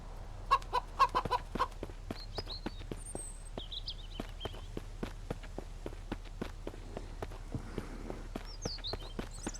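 Chickens in the survival game Mist Survival cluck softly amid a steady patter of footsteps and small bird calls, quiet and fairly close, with no voices.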